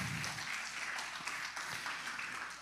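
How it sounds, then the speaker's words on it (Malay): A church congregation claps during a Malay-language sermon at DUMC in Petaling Jaya, a brief burst of fairly faint, distant applause with a low murmur underneath. "Beri tepukan kepada Tuhan."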